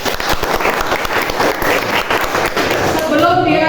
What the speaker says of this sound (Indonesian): Sekali lagi tepuk tangan untuk kalian.